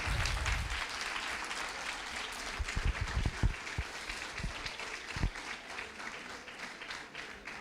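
A crowd claps steadily in sustained applause, a dense, even patter of many hands that carries on throughout.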